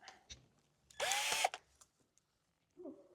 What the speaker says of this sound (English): Oh, I don't think Lord Featherington likes that drill.